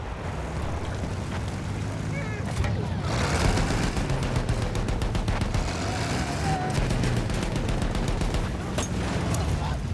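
Machine gun fire in the video game Battlefield 1 rattles in rapid bursts amid a dense battlefield din of explosions and engine rumble, loud and continuous throughout.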